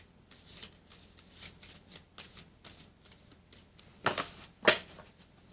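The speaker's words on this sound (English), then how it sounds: "I am shuffling for you right now from the Illuminated Tarot deck" Illuminated Tarot cards are shuffled repeatedly in soft riffling bursts, ending with two sharper snaps as the deck is squared, close and quiet.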